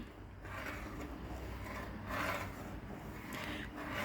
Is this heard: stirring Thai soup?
yes